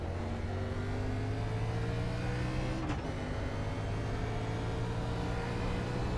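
NASCAR race car engine at Dover International Speedway, a steeply banked oval, in a racing video game, a steady sustained high-revving drone held on full throttle with a brief whoosh midway, loud and continuous.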